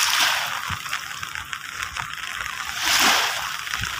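Sea waves of Manila Bay wash and splash in a steady broadband roar, swelling louder near the end, with no talking.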